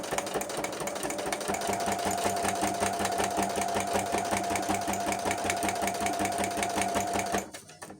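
Sewing machine back stitching through a junk journal, a fast steady mechanical clatter with a rhythmic thump running close and loud for several seconds before stopping abruptly.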